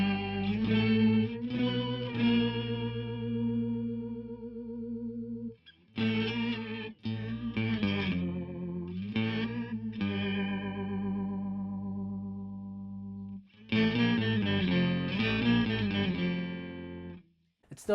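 Electric guitar through a Joyo R-13 XVI Revolution octave pedal, sustained notes and chords thickened by warbling modulation and a trailing delay, played in phrases separated by short pauses.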